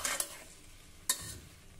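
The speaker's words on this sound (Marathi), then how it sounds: "अर्धा ते 1 मिनिट आपण हे जरा परतून घेऊ" Spices and rice sautéed in a cooker give two short bursts of stirring and scraping with a faint sizzle between them, close and fairly quiet.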